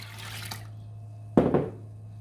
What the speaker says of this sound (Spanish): Vamos a agregar el agua